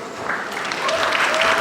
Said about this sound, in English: Guys, a huge round of applause.